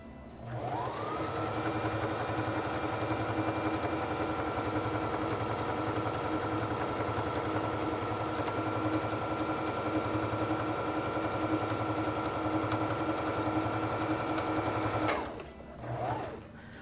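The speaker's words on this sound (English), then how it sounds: "lower the presser foot and start sewing" A SINGER Fashion Mate 3342 sewing machine stitches a buttonhole, its steady whirring motor and rapid needle chatter running continuously and close for about fifteen seconds before stopping briefly and restarting.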